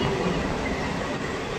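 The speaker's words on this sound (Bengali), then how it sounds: "এই মুহূর্তে আমাদের ট্রেন প্রবেশ করছে তার দ্বিতীয় হল্ট বেলঘড়িয়া স্টেশনে।" A local train rolls into Belgharia station with a continuous loud rumble of wheels on rails and faint metallic squeal, steady and close throughout.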